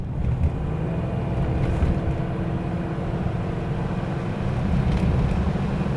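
A Cadillac de Ville engine at full throttle, a steady loud low rumble with a faint drone, continuous and unchanging over six seconds with no voices.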